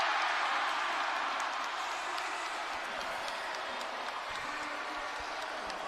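A crowd cheering and applauding at a swimming final, a dense, steady roar of clapping and shouting from a large audience that continues without a break, with no talk above it.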